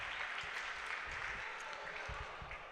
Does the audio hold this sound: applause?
yes